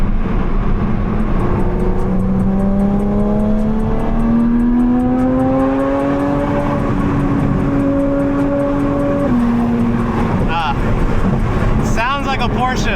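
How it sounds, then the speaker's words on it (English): A Porsche GT4 RS engine with a full titanium valvetronic exhaust revs up steadily in one long rising pull, holds, then drops off, loud and close with a rumbling exhaust. "Sounds like a Porsche."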